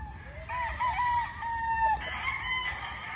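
A gamefowl rooster crows one clear drawn-out call at moderate distance. The call rises and holds, with faint farmyard background and no talk.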